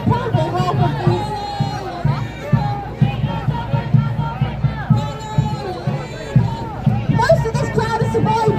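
Protest crowd in Manchester at a child protection rally, with loud, rhythmic shouting and chanting pulsing on and off throughout, many voices close by.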